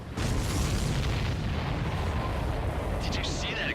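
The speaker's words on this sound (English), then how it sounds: "Did you see that explosion?" A supply ship explodes in the Ace Combat 7 flight game, a sustained, heavy roaring blast rumbling steadily throughout with dense low-end boom, and brief higher tones near the end.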